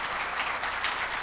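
An audience at a Korean year-end members' night and awards ceremony claps, a dense, even burst of applause filling the room without a break.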